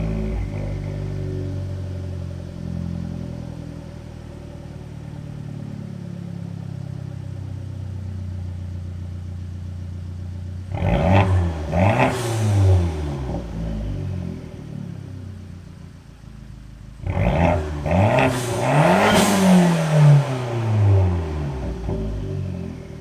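Abarth 500 with stock exhaust idles with a low, steady burble up close, then two sharp revs rise and fall in separate bursts, loud and throaty with no voices over them.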